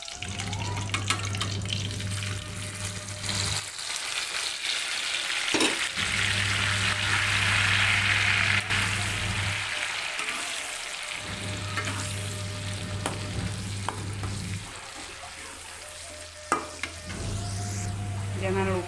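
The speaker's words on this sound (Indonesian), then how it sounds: "Kita goreng cabenya." Chilies frying in oil previously used for frying catfish give a continuous sizzle with stirring scrapes, a low hum cycling on and off in the background, no speech.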